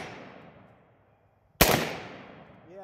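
A Remington ACR rifle fires a single sharp, loud shot that cracks out after a moment of near silence, its echo trailing off across an outdoor range, with a fading tail from an earlier report at the start.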